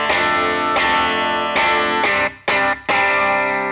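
Badly set clean electric guitar amp tone: a series of loud strummed chords with a harsh, warbly, chorus-like, slightly distorted edge, the last few cut short and choppy, no talking.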